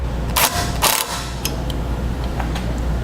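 Self-tapping screws driven into metal studs while mounting a Blue Ox tow bar accessory kit part on a 2016 Ford Taurus, heard as two loud bursts of whirring driver noise near the start, then quieter clicks and mechanical rattles.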